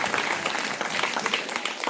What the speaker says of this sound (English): Let us give all the parents a round of applause.